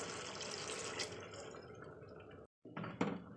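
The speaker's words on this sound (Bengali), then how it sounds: "তো দেখতেই পাচ্ছেন দিয়ে দিচ্ছি জল" A cup of water pours into chicken curry in a kitchen pot, a soft splashing, trickling rush that runs for a couple of seconds, breaks off briefly, then resumes with a few quieter splashes.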